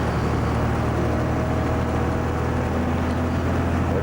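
A 1981 Volvo F12 truck's diesel engine drones loud and steady from inside the cab while driving on flat road, a constant low rumble with no talk.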